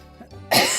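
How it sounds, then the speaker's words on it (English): A single quick throat-clearing cough from a man, one short harsh burst after a faint low grunt, close and fairly loud. "Forgive me for coughing in y'all's ears."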